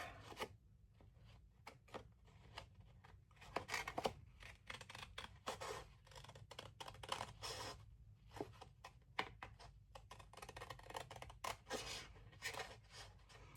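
Scissors trim the edge of a handmade paper journal card, giving a dense run of close, crisp snipping and rustling strokes, steady with brief louder cuts and no talk.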